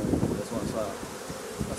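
Honey bees buzz at an open hive, a close, dense hum of many wings swirling and wavering over a brief moment, with no talk.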